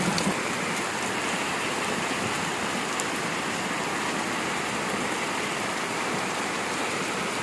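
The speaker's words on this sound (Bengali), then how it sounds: "খুবই জোরে এবং অনেক বৃষ্টি হচ্ছে, বৃষ্টির ঘনত্ব অনেক বেশি" Heavy monsoon rain pours down steadily in Pabna, Bangladesh, a dense, unbroken hiss of falling water that holds an even loudness throughout with no voices.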